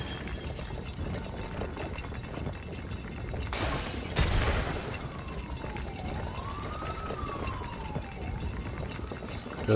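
Police car siren in Lego The Incredibles, a rising and falling wail that sweeps up and down over busy game sounds, with a loud clattering burst midway.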